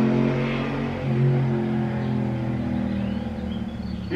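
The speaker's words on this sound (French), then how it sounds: "On va lancer une moto." A motorbike engine runs and revs with a steady, rumbling drone that rises and falls slightly. It is fairly close and sounds alone, with no talking.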